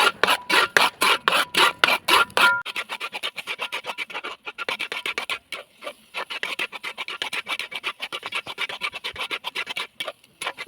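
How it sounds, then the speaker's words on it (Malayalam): Jackfruit halwa is stirred in a pan, with rapid rhythmic scraping strokes at first, then steady fast rasping scrapes that continue throughout, loud and close with no voices. "ഇനി ഇത് ഇളക്കി ഇളക്കി ഇതൊന്ന് ഹൽവ പരുവായി വരണം"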